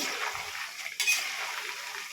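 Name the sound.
stirring food in a frying pan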